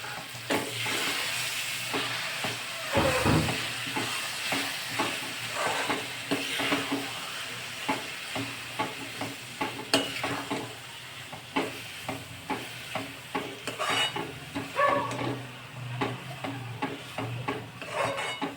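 A spoon scrapes and stirs mashed eggplant in a frying pan, rhythmic rasping strokes repeating steadily for a long stretch, close and clear with a faint sizzle underneath.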